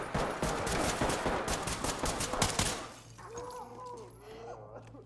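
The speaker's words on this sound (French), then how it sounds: "Ok, en face, ça tire en face. Bon, ça nous tire dessus." Rapid bursts of gunfire from the Ready Or Not video game fill the first three seconds loudly and densely, then die away to a quieter stretch with a low hum and faint tonal sounds.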